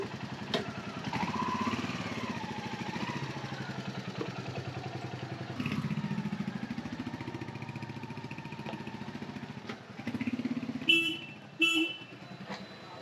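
Royal Enfield Hunter 350 motorcycle on a test ride, its engine a steady low rumble throughout, with wind noise and a short burst of sharper clatter near the end.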